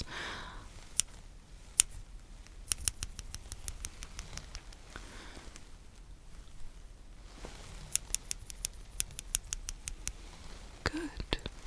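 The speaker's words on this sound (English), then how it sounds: "let's go ahead and start with the scissors" Scissors snip close to the microphone as a soft ASMR trigger, crisp cuts coming in quick bursts with short pauses between them over a quiet background.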